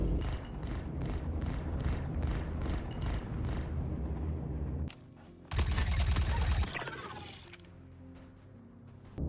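Rapid, heavy automatic turret fire in a space combat game, a steady pounding burst of repeated shots, a pause, then a louder crackling blast that fades out.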